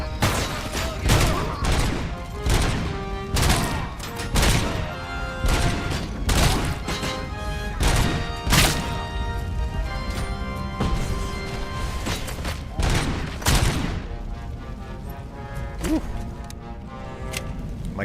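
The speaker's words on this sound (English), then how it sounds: "It's an assault rifle spitting out shotgun rounds." Rapid, loud bursts of assault-rifle fire loaded with shotgun rounds in the Robocop: Mechanical Law video game, dense repeated blasts and crashes over about eighteen seconds amid game effects and background music.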